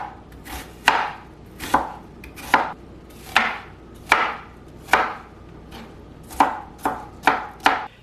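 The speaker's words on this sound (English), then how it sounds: "once I've got the onions chopped" Onions being chopped with a knife on a cutting board, about a dozen sharp, evenly spaced cuts in a steady rhythm, close and clear with no talking.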